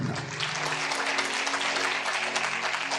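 A congregation at a sermon claps loudly together, a dense, steady wash of many hands filling the space for a few seconds without a break.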